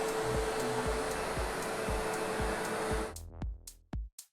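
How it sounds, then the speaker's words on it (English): A Pacific V12ES HEPA upright vacuum roars loud and steady as it makes a single pass over spilled sugar packets, with rhythmic clicks and rattles of grains being picked up, then cuts off abruptly into a few short knocks. "And then we'll make 1 pass over it with our vacuum."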